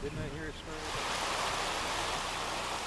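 Creek water flows at a home site where a bridge crosses the creek, a steady broadband rush that swells in after a brief voice at the start and then continues alone.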